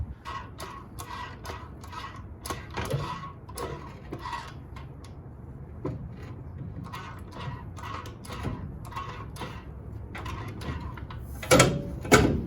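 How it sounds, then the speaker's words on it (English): A floor jack is rolled under a 1968 Chevrolet C10 truck and pumped up in a garage, giving a series of close scraping, rasping strokes with a few louder mechanical clanks near the end. "I'm gonna put on a jack, roll it under, and jack it up to where I need it."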